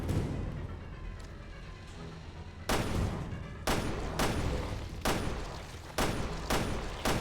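Gunfire from Resident Evil: Revelations 2 rings out in a string of about eight sharp, loud shots at irregular intervals, preceded by a rumbling game ambience with no talking.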